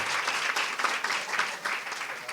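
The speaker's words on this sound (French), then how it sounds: "en la personne de M. Mohamed Hamel Ismaël, que je voudrais que vous applaudissiez" An audience at a ceremony breaks into brisk, continuous applause, a dense patter of many hands clapping at a steady level throughout.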